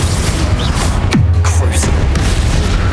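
A Confringo fire spell in Hogwarts Legacy bursts as a single booming blast about a second in, with a falling whoosh trailing into a low rumbling tail over steady game music.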